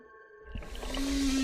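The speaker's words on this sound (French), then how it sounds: "C'est alors que les cordes vocales entrent en action, ce qui fait vibrer le corps de la baleine et rayonner le son à l'extérieur." A whale vocalizes in a short tonal call that rises out of quiet into a sustained, steady moan with noisy underwater texture, heard clearly and alone.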